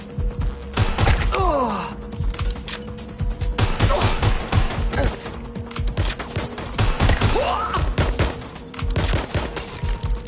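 Dense video-game gunfire in Watch Dogs: Legion: rapid bursts of sharp, loud shots in clusters, with brief pauses between volleys and a few whizzing ricochets, close and alone without talking.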